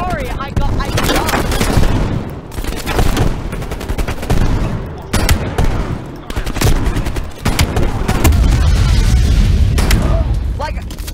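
Rapid gunfire and booming blasts in the video game Black Ops Cold War, loud dense bursts of shots with brief pauses between volleys.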